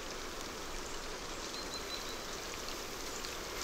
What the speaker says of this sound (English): the humid westerly winds bring the long-awaited rains from the Indian Ocean